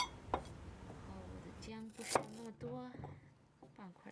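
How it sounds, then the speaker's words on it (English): A kitchen knife chops chili on a cutting board with a few quiet, separate knocks. Someone talks over the chopping while cooking a beer duck dish. "Chop your chili up."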